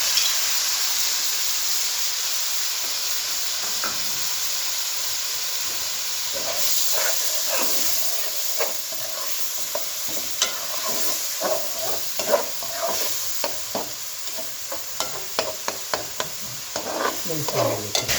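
Seven tomatoes hiss in a pan of leftover oil from fried beef koftas, a steady sizzle at first, then a growing run of sharp scraping stirs over the frying.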